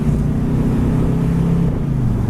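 A 1969 Buick Skylark convertible's engine hums steadily as the car drives straight down a road, a continuous low droning rumble with wind noise and no break in the sound.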